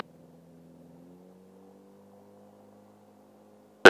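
Small aircraft engine idling and taxiing on a runway, a low steady drone with faint harmonic hum throughout, quiet and even, ending in a sudden loud burst of noise.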